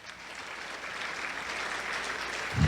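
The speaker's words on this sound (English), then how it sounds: "Round of applause for Canada" Applause from an audience for Canada at a culture talk event, a soft, steady patter of clapping that swells gradually and grows louder toward the end.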